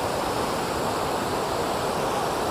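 Heavy rainwater pours into a drain after a downpour, making a loud, constant rushing roar like a small waterfall, close by and uninterrupted, with no voices over it.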